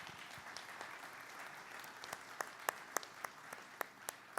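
Applause at a panel on open justice, quiet and distant at first, then sparse sharper individual claps standing out near the end as the clapping thins.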